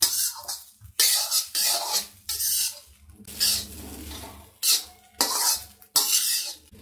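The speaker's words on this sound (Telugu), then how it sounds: "హై ఫ్లేమ్ మీద కలపాలి." Egg fried rice is stirred and tossed in a pan over a high flame, with repeated loud scraping strokes of the spatula in an irregular rhythm and a faint sizzle in the gaps.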